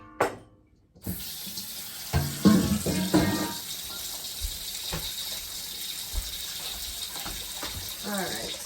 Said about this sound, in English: that big bowl I'm going to need to hand wash